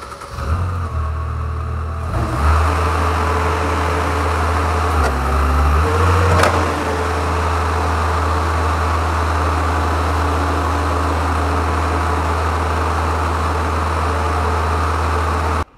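An Advance industrial sweeper running while its hopper is lowered, giving a steady low engine drone with a short mechanical shift partway through and a brief metallic clank, loud and close with no talking.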